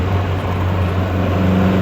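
A steady low engine drone and road rumble from inside a moving 1962 Triumph TR4, constant and fairly loud throughout.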